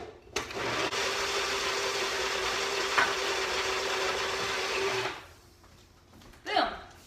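An electric mixer whips a peanut butter and banana mixture with a steady, fairly loud whirring drone for about five seconds, then cuts off, leaving quiet with a brief clatter near the end.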